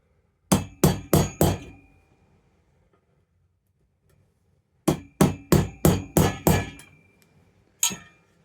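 Sharp metallic hammer strikes on a transfer punch marking wood come in quick bursts: four rapid blows, a pause, six more, then a single final tap, close and ringing.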